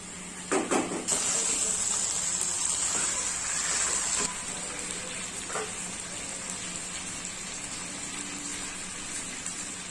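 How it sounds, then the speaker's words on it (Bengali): Water poured into a cooking pot of chicken and potatoes, a soft steady gush and splash close by, starting with a brief sharper pour and then settling into a quieter, continuous trickle with no talk. "এখন দিয়ে দিচ্ছি পরিমাণ মতো জল"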